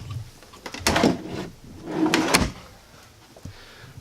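Storage drawers in a 2014 Allegro Red 33AA motorhome sliding open and shut, two distinct close-miked rattling slides about a second apart, followed by faint handling noise.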